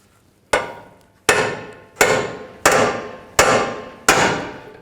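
A hammer strikes a pickle fork to split a control arm joint on a 2003-10 BMW X3, six loud, sharp metallic blows at an even rhythm about three-quarters of a second apart, each ringing briefly before the next.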